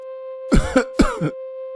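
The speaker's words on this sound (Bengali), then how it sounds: "কাশতে কাশতে আবার দম যে বন্ধ হয়ে যাওয়ার জোগাড় হলো।" A cartoon character coughs twice in quick succession, harsh throat-clearing bursts over a steady electronic hum, with no talk.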